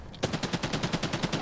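Rapid automatic gunfire in the video game Arena Breakout Infinite, about a dozen evenly spaced sharp shots in a quick burst, close and loud.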